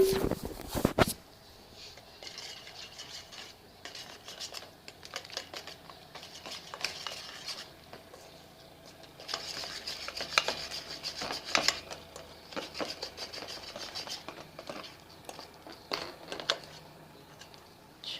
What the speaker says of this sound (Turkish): Unumuzu azar azar ekliyorum. Ve kaşığımızla karıştıracağız.